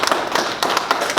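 Applause from a lecture audience at a Seoul National University AI special talk: dense, steady clapping of many hands, fairly close and loud, with no voices over it.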